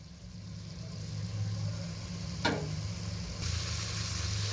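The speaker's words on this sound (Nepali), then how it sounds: "मसला हालिसकेपछि पनि मजाले फ्राई गर्नुपर्छ। एकदमै फ्राई गर्नुपर्छ यसलाई मासुलाई चाहिँ।" Goat meat frying in masala in a pan for Nepali khasi ko masu jhol, a steady close sizzle with one sharp clack of a utensil midway.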